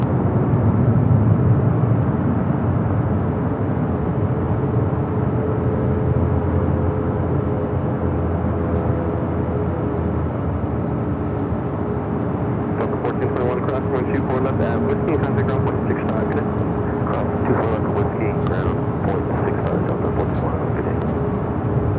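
A Delta Airlines Boeing 737-800 takes off at LAX, its engines roaring steadily and loud throughout, with crackling turbulence building in the second half.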